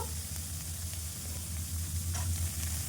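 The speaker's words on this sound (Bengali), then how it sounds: "আদা দিয়ে দেবো ফোড়নে এগুলো কিন্তু খুব বেশি ভাজবো না জাস্ট কাঁচা গন্ধটা চলে যাওয়ার জন্য যতটুকুনি ভাজতে হবে ঠিক ততটুকুনি ভাজবো" Ginger and carrot fry in hot oil for a tempering, giving a steady, close sizzle with faint stirring clatter and no talk.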